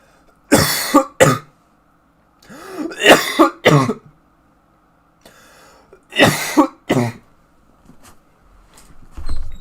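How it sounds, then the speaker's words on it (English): Several harsh, close coughs come in bursts of two or three, separated by short pauses, with heavy throat-clearing between them. "I got a really bad cough, man."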